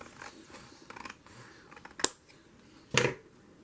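Scissors trim paper while journaling indoors, giving two crisp, close snips with a faint rustle of paper between them and no voices.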